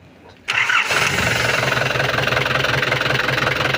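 A car engine runs steadily at idle after a sharp start, with a continuous low rumble and mechanical rattle from underneath as the clutch pedal is pressed.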